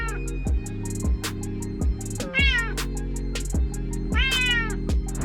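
A cat meows repeatedly beside a Lego cat, a few close, clear meows rising over a steady background hum and rhythmic thumping.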